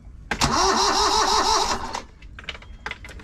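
A car engine is started with the key: a brief cranking whir with a rising, wavering pitch for about a second and a half, then it cuts off, followed by a few light clicks and knocks nearby.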